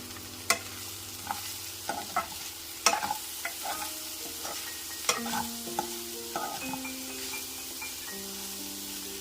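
Ground spices, including chilli powder, coriander powder, cumin powder and garam masala, stirred and mixed in a frying pan for a chicken samosa filling, with a steady low sizzle under repeated scraping clicks of the spoon.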